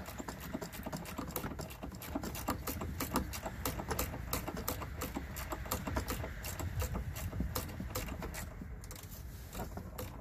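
A short quarter-inch-drive ratchet with a flex head backs a long bolt out of a Hyundai battery negative cable fitting outdoors in cold weather. It gives a rapid, steady run of close, crisp clicks that continues without pause.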